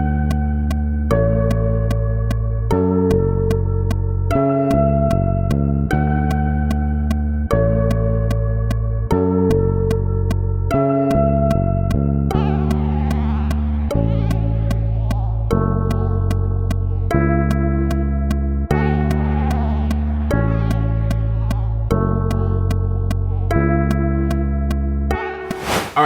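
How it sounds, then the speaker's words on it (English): Sampled bass line laid into a hip-hop beat, a steady run of loud, deep, sustained notes changing pitch every beat or so, with bright percussive layers joining partway through and continuing to the end. "let's go ahead and lay down this bass line."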